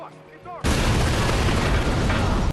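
A loud explosion goes off in the Watch Dogs video game, a sudden blast that erupts after a quiet moment and then sustains a dense, roaring rumble through to the end, with faint voices beforehand.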